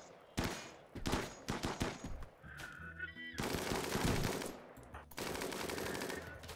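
Gunfire in the video game RimWorld as raiders shoot at steel turrets: rapid bursts of automatic fire and sustained loud volleys, with a brief tonal game sound between them.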